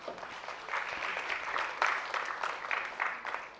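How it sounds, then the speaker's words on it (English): An audience at a leadership panel on financing sustainable development and climate action applauds to welcome the session chair, a dense, steady burst of many hands clapping. "Let's give a round of applause to welcome him."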